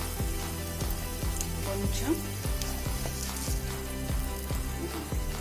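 Crushed garlic and a red chilli fry in two spoons of oil in a bowl, giving a steady sizzle under a brief spoken word and rhythmic background music.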